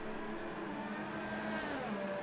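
Racing cars pull out of the pits in a racing video game at Spa, a steady engine drone with a whiny, revving edge at moderate level, with no voices.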